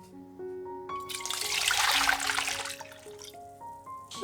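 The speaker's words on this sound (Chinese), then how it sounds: "倒入适量的水" Water poured into a cooking pot for blanching shredded carrots in a vegetarian cold-salad recipe; a steady splashing pour swells for a couple of seconds over quiet background music, then tapers off.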